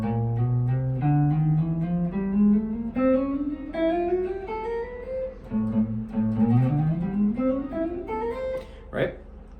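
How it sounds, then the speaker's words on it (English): Classical guitar slur exercise with left-hand finger combinations, notes hammered and pulled off in smooth ascending runs, each string phrase flowing into the next, close and clear with a brief percussive tap near the end. "you can do these as slur exercises"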